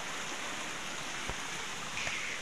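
A waterfall beside a footpath, a constant rushing hiss of falling water, moderately near and steady, with a couple of faint knocks.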